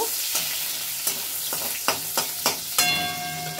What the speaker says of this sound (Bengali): রসুনটাকে একটু ফ্রাই করে নেব।